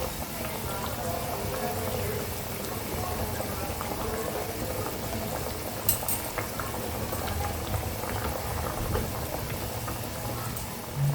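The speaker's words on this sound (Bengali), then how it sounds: "ঝোলটা একটু ফোটা অবধি অপেক্ষা করবো" Curry broth for an egg bhujia curry with potato and onion simmering to a boil in a pan, a steady close bubbling and gurgling that runs unbroken throughout.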